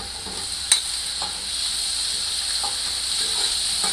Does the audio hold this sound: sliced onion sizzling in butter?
yes